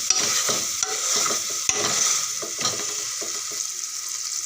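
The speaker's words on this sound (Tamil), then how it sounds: "அமுக்கிற கரண்டி வச்சு நல்லா அமுக்கி விட்டுக்கிறேன்." A masher spoon presses and stirs South Indian crab gravy in a pan, scraping and squelching in repeated strokes over a steady sizzle, fairly close and loud.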